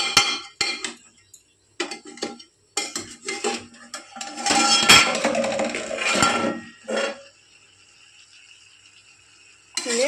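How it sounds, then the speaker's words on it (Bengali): A metal spatula scrapes and clatters against a kadai as red amaranth stalk vegetables are stirred, with bursts of clanking strokes, a dense stretch of continuous scraping in the middle, then a quiet pause before one last clink. "ভালো করে খুন্তি দিয়ে সবজিটাকে নাড়িয়ে নিলাম।"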